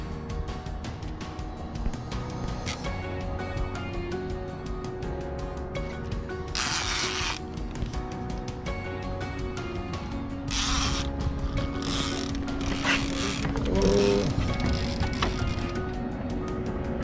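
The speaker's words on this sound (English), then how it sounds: "Look at that reel, Andy." Fishing reel spinning out during a sturgeon fight on the Harrison River in Canada: rapid, continuous ratcheting clicks from the drag, loud and close, with bursts of rushing water or line noise over the steady clicking.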